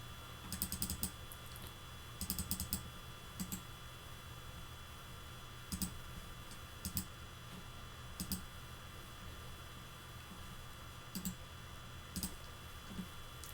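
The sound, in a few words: typing on a computer keyboard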